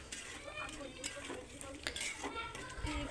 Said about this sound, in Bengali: এই যে আমি এটা বারবার ঢাকনা তুলে কষিয়ে নেড়ে চেড়ে দিচ্ছি।